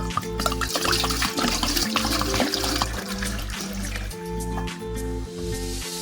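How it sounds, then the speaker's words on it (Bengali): Water pours into a cooking pot set on the stove, a continuous close splash and trickle over a steady low hum, fading slightly toward the end. "ডেচকি চাপিয়ে নিচ্ছে আর দিয়ে নিচ্ছি পরিমাণ মতো জল"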